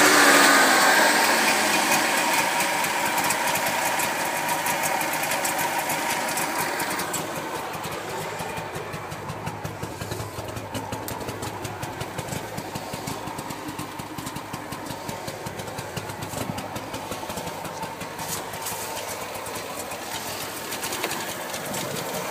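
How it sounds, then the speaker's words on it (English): A 1964 Saab 96 with a premix two-stroke engine idles with its choke partly closed, giving a buzzy, sewing-machine-like chatter. It runs louder at first, then settles into an even, steady idle that carries on alone. "Close the choke a little bit, let it idle."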